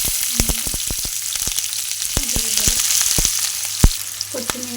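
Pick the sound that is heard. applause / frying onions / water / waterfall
frying onions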